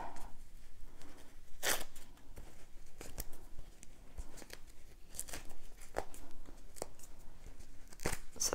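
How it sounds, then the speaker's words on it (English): Tearaway embroidery stabilizer is ripped off a fabric treat bag in short, quiet tearing and crinkling bursts, irregularly spaced across the clip, with one longer rip near the start and a few sharp snaps later. "So get all these tearaway out."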